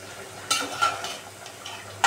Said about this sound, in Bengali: দেখতে লাউ এদিকে কষাইতেছি